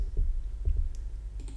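A computer mouse gives a handful of soft, close clicks in an irregular rhythm, some coming in quick pairs, with no voices.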